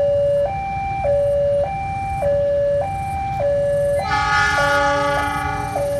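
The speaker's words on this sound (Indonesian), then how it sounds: "Ini lagi ya, kereta api Argo Wilis melintas dengan kecepatan sedang" Argo Wilis passenger train passing at moderate speed at a level crossing, with a loud two-tone crossing bell alternating steadily alone, then joined by a brighter higher horn-like tone toward the end.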